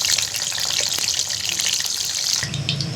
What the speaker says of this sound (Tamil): எண்ணெய் காஞ்செடுத்து இப்போ சின்ன வெங்காயம் 1 கப்பு இதில் போட்டு நம்ம பொரிச்சு எடுத்துக்கலாம்